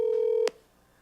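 A phone keypad sounds one steady dialing tone followed by a short click while a call is placed to Apple customer service; the line then goes nearly quiet.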